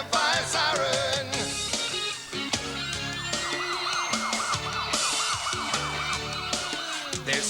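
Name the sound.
fire truck siren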